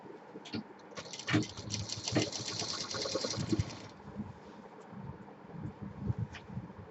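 A sewing machine stitching a folded border on a fabric basket, running in a fast, close mechanical patter for a few seconds before stopping, with soft handling noises of the cloth afterward.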